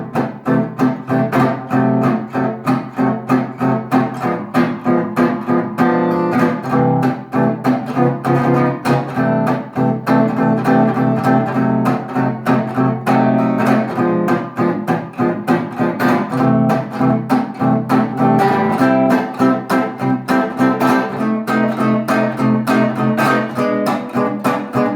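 Gypsy jazz rhythm guitar playing pompe manouche swing strumming, a steady, close, loud chugging beat of short accented chords that keeps going throughout with no talk.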